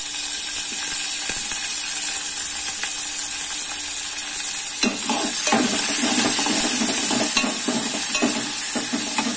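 Curry leaves hit hot oil in a tempering for buttermilk rasam, a sudden crackling sizzle breaking out about halfway through after a quieter stretch, then sputtering on with a steady hiss.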